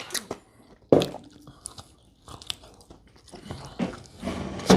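Crunchy bites and chewing of crispy-skinned chicken wings cooked in an air fryer, a loud crackling bite near one second followed by irregular close-up crunching and chewing, louder bursts toward the end, with no talk.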